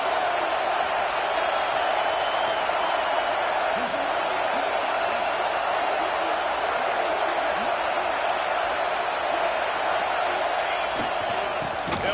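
Steady roar of a college football stadium crowd during a first-and-goal play, a loud, unbroken wash of cheering and noise sustained throughout with no clear breaks.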